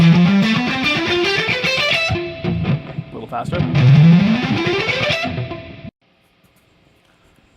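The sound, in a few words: distorted electric guitar scale run with economy picking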